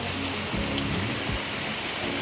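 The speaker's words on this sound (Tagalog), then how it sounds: "lumakas na po yung ulan po" Heavy rain pours down in a steady, dense hiss that fills the scene, loud and unbroken throughout.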